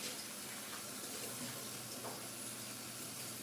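Cold tap water runs steadily over grits being rinsed in a kitchen, a faint, even hiss and splash with no break and no voices.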